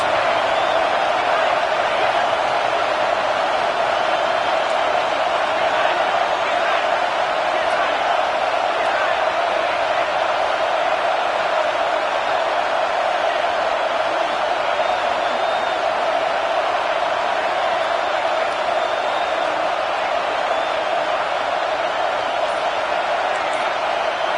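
Football stadium crowd in a Memphis versus Clemson game, cheering on the defense late in the game, a loud unbroken roar that holds steady throughout with only slight swells.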